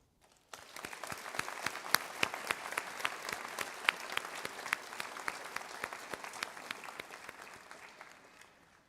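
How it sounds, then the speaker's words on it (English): Graduation ceremony audience for the Class of 2023 in Brantford breaks into sustained applause: dense, steady clapping from a large crowd that starts suddenly and holds before thinning slightly at the end. "Graduates, please join me in a round of applause to recognize all of those who have supported you"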